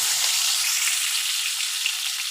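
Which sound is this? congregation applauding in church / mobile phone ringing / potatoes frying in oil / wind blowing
potatoes frying in oil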